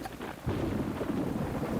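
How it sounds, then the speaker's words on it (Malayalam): Thunder rolls through a rainstorm as a low, sustained rumble over a steady hiss of rain, swelling after a brief quieter start and staying dense throughout, with no voices. "ഇവിടെ ഇടിവാള് മിന്നാണ്."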